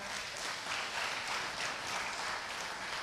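A church congregation applauds together at a Sunday worship service, steady dense clapping sustained throughout at moderate distance with no voices over it.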